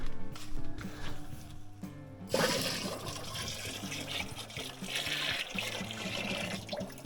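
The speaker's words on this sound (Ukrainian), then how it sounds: "Тепер виливаємо в наш бутильок." Homemade elderflower kvass is poured from a container into a bottle, a steady close splashing and gurgling of liquid that runs continuously with a brief pause early on.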